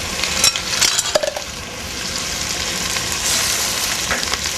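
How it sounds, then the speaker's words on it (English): Bourbon chicken sauce bubbling in a pan on the stove, a steady loud sizzle with a few clinks and stirring scrapes of a utensil early on. "we're boiling here."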